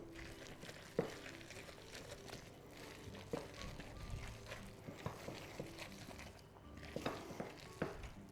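Zucchini bread batter being mixed in a bowl, heard as faint, soft wet scraping and thumping strokes that repeat irregularly and sit close.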